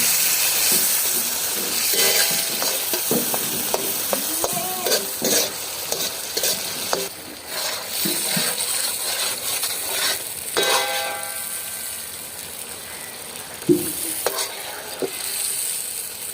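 Garlic-ginger paste and tomatoes stirred and sizzling in a hot karahi for Peshawari chicken karahi, with steady frying hiss and repeated scraping strokes of the spoon against the pan, close and continuous.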